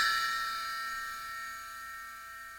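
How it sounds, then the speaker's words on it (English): A single strike on a bell cymbal rings out with a bright, sustained metallic shimmer that fades slowly over a few seconds, heard alone. "if I hit a bell cymbal"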